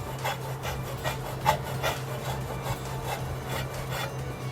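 A soft car wash brush scrapes against a wheel balance weight on the disc, a repeated, fairly close scrubbing rasp in steady strokes over a low constant hum, with no voices.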